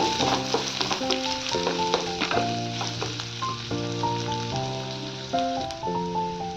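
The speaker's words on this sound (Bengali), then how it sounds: "পেঁয়াজগুলোকে একটু ভেজে নেব।" Steady sizzling of chopped onions frying in hot mustard oil, with crackly spatters running under a prominent melodic music track throughout.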